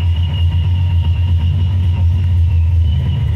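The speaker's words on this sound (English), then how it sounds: "Supercharged and nitrous 98 Z28 Fbody." A supercharged, nitrous-equipped 1998 Chevrolet Camaro Z28 F-body V8 running close by, a loud, deep, steady rumble with a slightly lumpy pulse.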